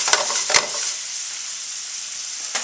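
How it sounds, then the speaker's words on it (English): Onions sauteing in a pan for Greek burgers give a steady, fairly loud sizzle with a few sharp stirring clicks near the start and end, with no talking. "after your onions are sauteing in there for a little bit"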